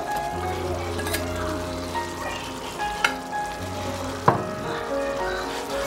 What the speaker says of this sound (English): I am going to add the sausages.